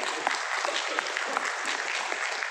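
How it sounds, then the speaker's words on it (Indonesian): Audience at a Partai Buruh (Labour Party) political rally claps in a steady, dense burst of applause, mid-distance and fairly loud with no clear speech, sustained for a few seconds. "Tepuk tangan untuk kita semua."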